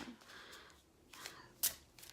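Tarot cards fumbled mid-shuffle and dropped: a few soft papery rustles and flicks, then one sharp close slap as the cards hit, followed by faint shuffling.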